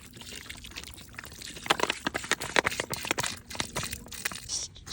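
Water is poured onto sugar and grape Kool-Aid outdoors, a splashing, gurgling pour with bursts of crackling splatter that rise and fall over a few seconds, close and fairly loud.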